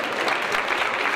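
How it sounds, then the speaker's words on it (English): An audience at the Rose of Tralee Cavan selection competition applauds, a dense, steady wash of clapping throughout. "Put your hands together for Steve from the Rose Tralee International Festival"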